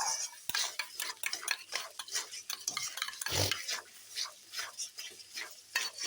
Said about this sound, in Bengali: এখন দিয়ে দিলাম বাটা মশলা দিয়ে ভালো করে কষিয়ে নিচ্ছি